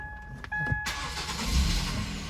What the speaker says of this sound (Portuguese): agora ela também liga o carro